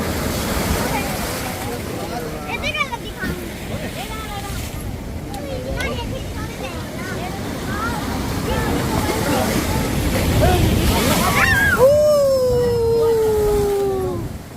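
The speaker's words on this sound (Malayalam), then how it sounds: "ഇങ്ങനെ വെള്ളം വരികയാണ്." Seawater surges through a coastal rock arch in a sea strait, a continuous loud wash of surf mixed with wind rumble, with a tonal whistle or howl rising near the end.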